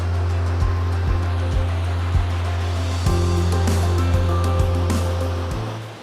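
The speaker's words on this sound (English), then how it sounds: "Check out this incredible waterfall." Upper Ames Falls near Telluride, Colorado, gives a steady, loud rush of falling water that holds evenly throughout, with faint steady tones and a few soft thumps layered over the roar.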